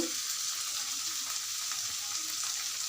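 Peas and beans fry with onion in a pan, giving a dense, steady sizzle that holds evenly and close throughout, with no talking.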